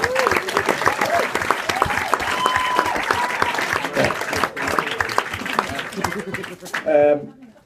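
Wedding guests break into sustained applause during a wedding speech, a dense wash of clapping with some cheering and voices mixed in, fading near the end as a voice briefly rises over it.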